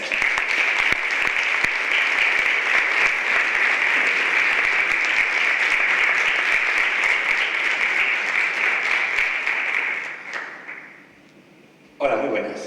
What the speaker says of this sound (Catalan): Un aplaudiment ben fort per a ells.